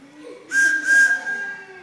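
A voice imitates a train whistle: a steady, high whistled tone held for over a second, sounding close and fairly loud, with soft background noise.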